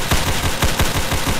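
Rapid gunfire in a Roblox World War II game comes as a burst of close, loud shots in a quick irregular rhythm, heard alone without talk.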